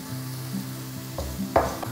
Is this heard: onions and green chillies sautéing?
yes